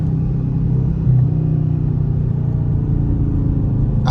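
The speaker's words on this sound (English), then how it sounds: "I'm downshifting." Dodge Charger engine rumbling from inside the car during a paddle-shift downshift, a steady deep drone with a brief rise in revs partway through.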